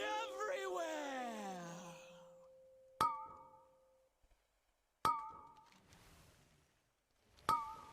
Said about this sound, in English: My phone is going off